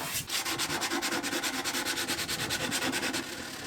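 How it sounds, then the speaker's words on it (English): Steady, rhythmic back-and-forth rasping of coarse 100-grit sandpaper removing finish from a wooden cocktail cabinet, close up, with roughly four strokes per second and no voices. "I might try sanding with some 100 grit to see if I can remove the finish that way"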